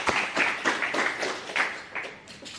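Scattered audience clapping at a startup pitch event, a handful of distinct hand claps landing in an uneven rhythm at moderate volume, thinning out toward the end.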